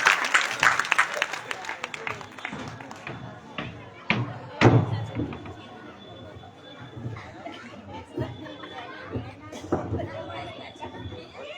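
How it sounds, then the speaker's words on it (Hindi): Loud applause from the audience at a kavi sammelan poetry gathering, dense clapping that swells at first then thins into scattered claps and crowd chatter, with a few thumps and a voice heard over it. "एक बार जोरदार तालियों के बीच भाई नमोकार दें।"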